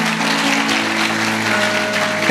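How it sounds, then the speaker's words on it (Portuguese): A church congregation claps steadily and loudly for about two seconds, with a sustained organ or keyboard chord holding beneath the applause. "Dá uma salva de palmas para Jesus."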